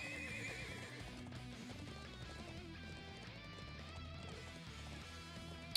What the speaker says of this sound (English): Thoroughbred warhorses from the Bardius family's own stables